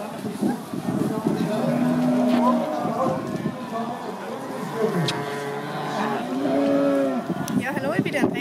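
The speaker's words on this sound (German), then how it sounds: "Das ist meine Kuh" A cow at a cattle show moos twice, in long low calls, amid a busy crowd hum with people talking in the background.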